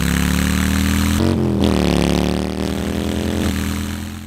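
A Harley-Davidson Road King motorcycle engine revs with a loud, steady roar. The pitch rises and falls through several throttle blips, and the engine stays close and continuous throughout with no talking.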